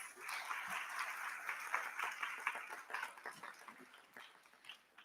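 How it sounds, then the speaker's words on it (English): An audience at a Sri Sathya Sai international conference in Nairobi applauds to thank the volunteers, moderately distant clapping with individual claps popping through, slowly tapering toward the close. "Can we give them a round of applause?"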